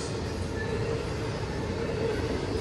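Freight train I158 on the Ohio-Baltimore line with 472 axles, hauling well cars and spine cars with chemicals near Voorheesville, rolls past as a steady, loud, continuous rumble of wheels on rails.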